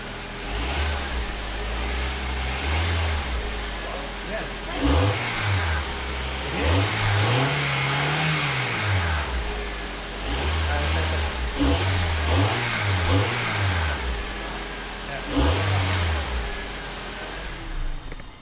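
2004 Acura TSX engine fitted with an aftermarket cold air intake, revved repeatedly from idle in a run of rising and falling bursts, with a voice speaking over it.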